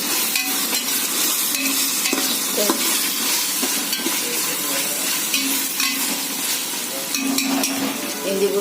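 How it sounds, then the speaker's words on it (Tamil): Ginger and garlic sauté in a pan for vegetable biryani, with a steady, dense sizzle running throughout. Intermittent scraping and stirring clatter sounds close by, and no one speaks. "இஞ்சி பூண்டு நல்லா வதக்கின பிறகு நல்லா வதங்கட்டும்"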